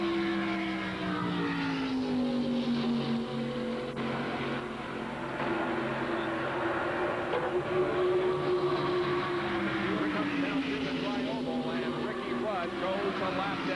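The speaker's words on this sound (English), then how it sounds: "let's listen to the cars" Stock cars from the 1991 Winston 500 NASCAR Winston Cup race roar continuously around the track in turn 3, a steady loud engine drone with a rising and falling pitch as the field passes, with commentary voices over it.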